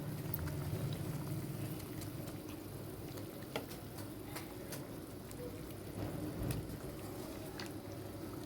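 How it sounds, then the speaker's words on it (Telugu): Tamarind fish broth with small bommidayi fish at a rolling boil in a wide pot, a steady close bubbling and simmering texture with scattered pops throughout, no talk. "పులుసు బాగా మసులుతుంది"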